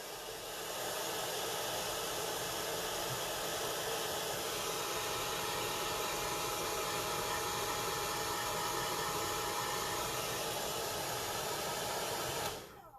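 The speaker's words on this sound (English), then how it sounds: "Hair dryer." A hair dryer blows with a steady, loud airy roar for about twelve seconds while drying paint on a tiny HO scale figure, then switches off near the end.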